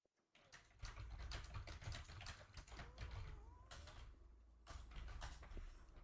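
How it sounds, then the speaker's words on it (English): Quiet, fast typing on a computer keyboard, with rapid clicking keystrokes in short runs broken by brief pauses. "Oh, my typing sucks."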